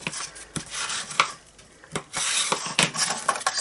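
Paper pieces for a gift bag are rubbed down with a burnishing tool: close, dry scraping strokes in short irregular bursts, with brief pauses between rubs.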